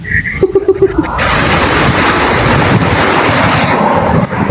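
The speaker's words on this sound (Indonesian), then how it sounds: "Bukan kipas angin loh, hujan deras di rumahku." Heavy rain pours down on a house in a steady, dense hiss after a brief burst of clattering at the start, loud and close throughout.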